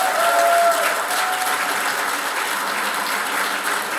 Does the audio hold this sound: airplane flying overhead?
no